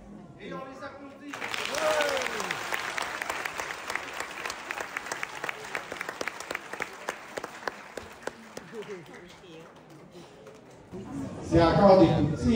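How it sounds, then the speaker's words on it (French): Audience applause at a school awards ceremony, a dense burst of clapping that swells quickly, holds steady for several seconds, then fades out before a voice begins speaking again near the end. "Et on les applaudit."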